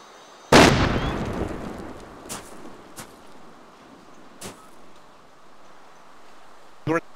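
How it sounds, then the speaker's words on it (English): A single loud grenade blast goes off close by during a military tactical operation, followed by a long rumbling decay and a few fainter distant pops and bangs, with a final sharp report at the end. "A grenade got me, I'm not sure what it was. An explosion of some kind."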